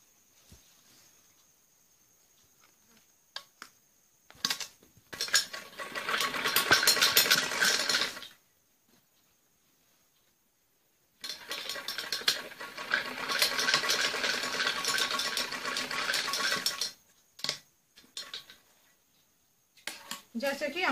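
Domestic sewing machine running a straight stitch along a trouser seam, fast mechanical whirring in two sustained bursts of several seconds each with short stops between, close and fairly loud, with faint talk in the quiet gaps.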